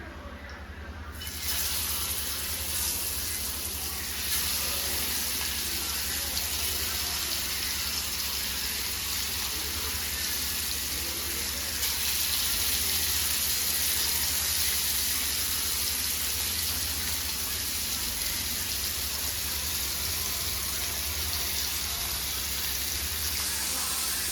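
Fish pieces fry in hot oil in a home kitchen pan, giving a loud, close, steady sizzling hiss that starts after a brief quiet moment and continues unbroken.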